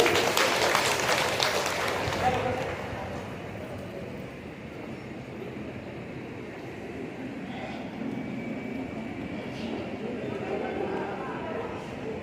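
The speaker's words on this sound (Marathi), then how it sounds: "जोरदार टाळ्या होत्या" Loud, sustained applause from an audience at a felicitation ceremony held by an artists' rights committee in Vidarbha, strongest in the first couple of seconds and then settling into a steady, dense clapping wash.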